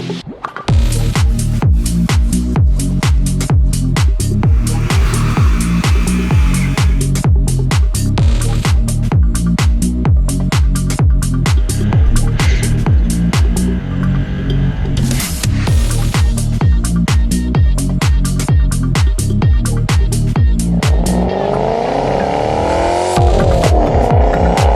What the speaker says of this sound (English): we're going to see if we can get the car rolling at high speeds without any issue